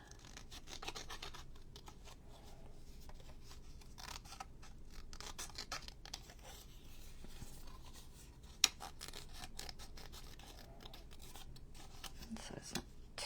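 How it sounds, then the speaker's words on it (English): Scissors snipping paper for fussy cutting in junk-journal crafting, heard as a steady run of soft, close rubbing and scratching snips with one sharper click partway through, and no talking. "when you're fussy cutting, it's easier to turn your paper than it is to turn your scissors"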